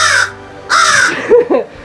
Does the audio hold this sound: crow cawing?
yes